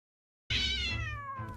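A cat lets out one loud, drawn-out meow close by, starting abruptly after a moment of silence and fading slightly toward the end, with no voices.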